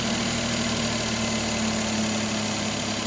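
A Suzuki Multicab with a K6A engine idles smoothly and quietly after a valve cover gasket replacement, a steady even hum close by with no talk over it.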